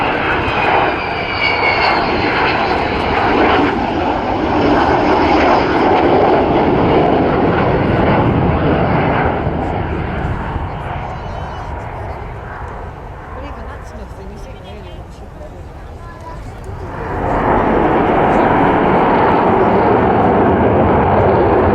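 Avro Vulcan bomber built in 1960 flying at the RAF Cosford airshow, a loud sustained roar of jet engines that swells, eases to a lower rumble, then surges back strongly, with a commentator's voice over the public address.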